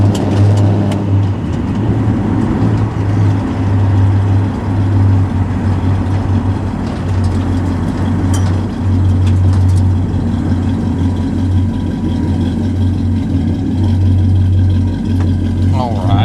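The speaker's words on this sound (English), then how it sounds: "This morning we are in a 1969 Chevrolet C10 short wheelbase pickup." Steady low engine drone from a 1969 Chevrolet C10 short-wheelbase pickup with upgraded driveline on a test drive, a continuous loud rumble heard from inside the cab throughout, with some talk over it.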